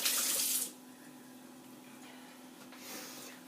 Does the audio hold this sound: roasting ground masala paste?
no